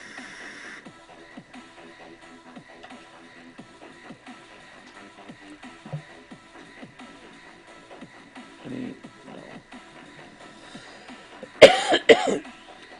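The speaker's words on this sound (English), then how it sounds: "I've been getting a cough" After a long stretch of quiet room noise with faint shuffling, a person gives a short burst of two or three close, loud coughs near the end.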